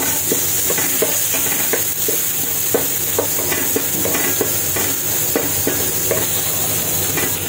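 Garlic and onions sautéing in a pan for Filipino beefsteak, a loud, close, constant sizzle broken by rapid rhythmic scraping stirs, with no talk.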